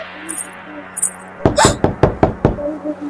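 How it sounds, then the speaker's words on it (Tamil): A door is rapped about six times in a quick, loud, close series of hard knocks, following a quieter stretch with faint high tones. "கதவை வேற தட்டுறாங்க."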